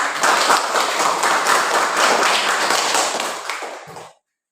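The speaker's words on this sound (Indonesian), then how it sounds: "Tepuk tangan." A group of children in a classroom claps their hands together, a brisk, fairly loud burst of clapping lasting about four seconds before stopping abruptly.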